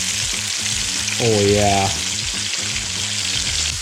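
Walleye fish fries in hot oil with a steady, loud broadband sizzle throughout, while someone speaks briefly over the crackling.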